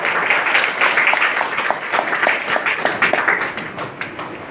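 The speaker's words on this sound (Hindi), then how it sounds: "जोरदार ताली।" An audience at a distributor training seminar claps together in a dense, lively round of applause that holds steady and then fades slightly toward the end.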